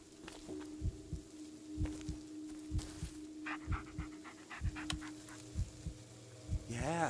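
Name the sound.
dog panting in video game Blair Witch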